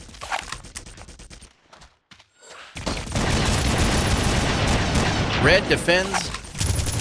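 Gunfire in a capture-the-flag match of a first-person shooter: rapid bursts of shots and booms, loud and dense, interrupted by a brief quiet gap, with a caster speaking over the action.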